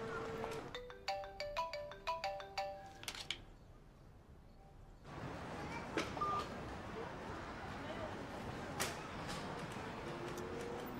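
A mobile phone ringtone plays a bright repeating melody for about three seconds, then stops; after a short pause a voice message starts and continues.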